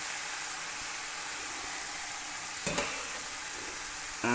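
Pasta and sausage sizzle in a wok or frying pan, a steady broadband frying hiss with a brief clatter as the food is stirred midway through. No talking.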